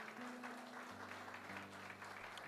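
Congregation applauding in a church service, a steady wash of clapping heard at a distance under a sustained low organ or keyboard tone.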